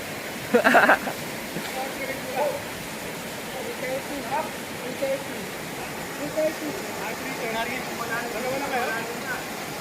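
A constant broadband rush of river water runs throughout, with voices talking faintly over it, at a river crossing in Kibungan, Benguet.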